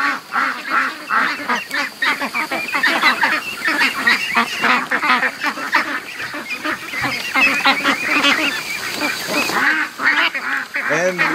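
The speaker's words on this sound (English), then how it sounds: "Look at that big goose." Geese honk repeatedly in a loose, overlapping chorus, loud and close, with a few quacking calls mixed in.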